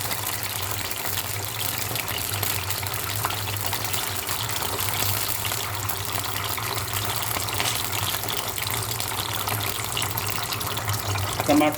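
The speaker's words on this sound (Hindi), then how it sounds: "मैंने पानी डाल दिया।" Water gushes steadily into a cooking pot while tomato paste is being added to a hot dish, a continuous pouring wash that stays fairly faint with a low hum beneath it.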